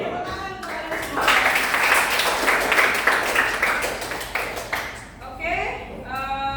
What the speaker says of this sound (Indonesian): Oke, tepuk tangan kepada semua.